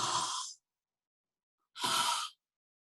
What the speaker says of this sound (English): So that's the example of the breathing you're going to do.